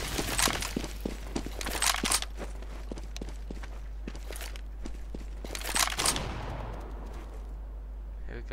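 CS:GO match with an incendiary grenade and gunfire: sharp, repeated gunshots crack at irregular intervals, with brighter bursts and a hissing burn that trails off, all fairly quiet under a steady low hum.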